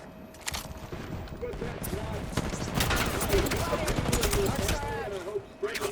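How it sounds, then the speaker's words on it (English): Fuse's knuckle cluster grenade in Apex Legends bursts into a dense string of rapid small explosions and crackling pops, sustained for several seconds under a speaking voice amid surrounding gunfire. "There goes the old knuckle cluster."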